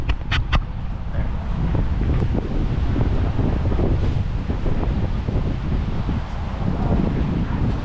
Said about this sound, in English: And it got a little windy.